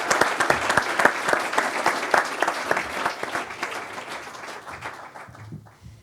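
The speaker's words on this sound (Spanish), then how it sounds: "os pido un aplauso para ellos y muchas gracias por asistir" An audience at a Spanish-language economic outlook talk applauds, with dense, steady clapping from a room full of people that fades toward the end.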